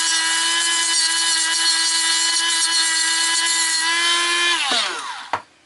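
A Dremel rotary tool cuts through the metal casting of a toy car, a steady high whine that holds loud for several seconds, then winds down as the tool is switched off, with a brief final clack at the end.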